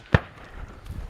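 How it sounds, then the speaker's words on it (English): A Remington M1917 rifle fires at a shooting range, a single sharp crack followed by a low rumbling tail, heard at some distance and fairly quiet. "listen to that difference in the bullet flying past, breaking the sound barrier, and then the actual gunshot"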